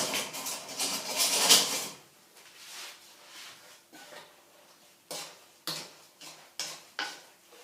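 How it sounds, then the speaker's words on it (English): A spoon stirs apple pie filling with nutmeg in a bowl, a quiet scrape and shuffle followed by a series of short, separate clicks and taps against the dish. "I mix it up with a spoon"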